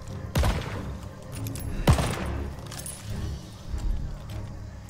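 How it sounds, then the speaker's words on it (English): Gunfire in the video game Call of Duty Vanguard, two sharp, heavy shots about a second and a half apart with ringing tails over a low rumbling battlefield bed, a player speaking over the action. "Is that friendly fire?"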